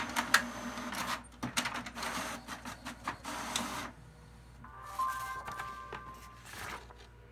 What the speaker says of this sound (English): So I'm going to put this back in the printer and hit print.